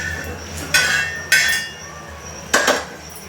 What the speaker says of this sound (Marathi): आता हे पण काढून घेते मी ताटामध्ये